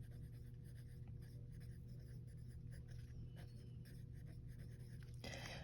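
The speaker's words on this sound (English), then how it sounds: "I'm just going to write that off to the side here." Pen or marker strokes from writing by hand during a math lesson, quiet scratchy taps in short irregular bursts over a steady low hum, with a brief louder rustle at the very end.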